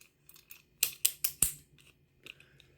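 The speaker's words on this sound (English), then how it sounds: "This one you can ratchet." A small ratcheting pipe cutter for fuel lines clicks in a quick burst of four sharp, close ticks, with a few fainter clicks before and after in a quiet shop.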